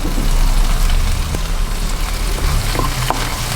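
Chopped onion and a green chili sauté in a hot pan, giving a loud, steady sizzle with faint crackles and a few soft stirring taps, close up and without talk.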